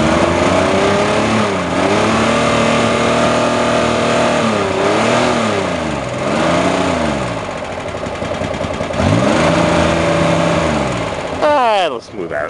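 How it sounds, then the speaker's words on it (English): An old Chevrolet Monza engine running rich and misfiring on five of six cylinders, sputtering and revving unevenly up close, with people talking over it throughout. "Drop her in gear, emergency brake off, turn off the interior lights, and hope she stops sputtering and runs on all six."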